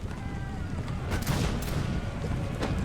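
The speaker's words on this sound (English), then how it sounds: "Fire, boys, you gotta fire quickly." Soldiers fire a musket volley in the video game Imperial Splendour: a burst of overlapping gunshots swells over a steady battle rumble, with another crack near the end.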